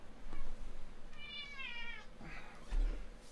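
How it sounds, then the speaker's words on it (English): A pet cat lets out a loud, drawn-out meow, then a second shorter cry, close by in a quiet indoor room with low background hum. "Cat, everybody. He's here, he's noisy, and he's not afraid to tell you."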